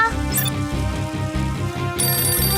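A telephone rings with a loud, continuous electronic ringtone melody that repeats without pause.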